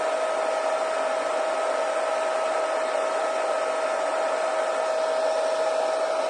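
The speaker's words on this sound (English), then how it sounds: "at least this way with the hairdryer" A hairdryer blowing on a mixed media card, a steady loud whirring drone with a constant whine and rushing air, unbroken and close throughout with no voices.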